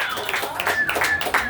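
A short burst of clapping and applause from a crowd at a farewell gathering, moderately loud with scattered individual claps and no voices.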